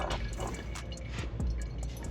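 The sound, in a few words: fluid being poured while servicing a motorcycle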